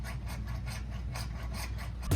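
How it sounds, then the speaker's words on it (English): Rhythmic back-and-forth hacksaw strokes rasp against PVC pipe, close and steady, about eight strokes before a heavier thud at the end. "we're gonna take this piece of PVC pipe, we're gonna shorten it with this hacksaw"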